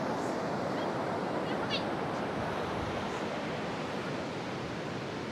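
Big ocean waves crash on a beach in Goa on a stormy, cloudy day, a dense continuous roar of surf filling the whole clip at close range with no pauses.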